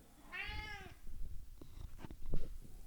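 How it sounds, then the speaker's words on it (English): A house cat meows insistently for attention, a clear drawn-out call up close followed by quieter shuffling and handling noises. "The cat demands attention, so I have to go."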